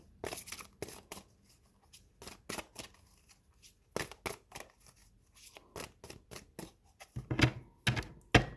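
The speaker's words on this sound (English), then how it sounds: "I'm going to try to shuffle the other way." Crisp bursts of cards riffling and snapping together, repeated in short quick runs with brief pauses between, close and fairly quiet.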